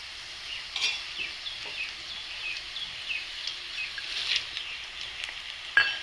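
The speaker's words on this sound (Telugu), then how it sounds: "కాకరకాయ అయితే ఇలా వేగిందండి" Bitter gourd frying in oil in a pan, a steady close hissing sizzle with light crackles and pops, occasional stirring clicks, no voices.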